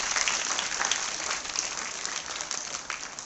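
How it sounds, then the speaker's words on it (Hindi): Sustained applause from an audience welcoming a speaker at a general-knowledge quiz session, a dense steady clatter of many hands clapping at once, fairly loud and continuous throughout with no voices on top. "सर का जोरदार तालियों के साथ स्वागत किया जाए"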